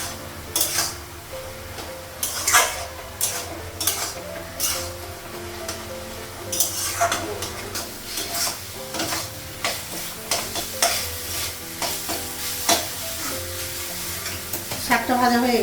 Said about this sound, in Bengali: শাকটা ভাজা হয়ে গেছে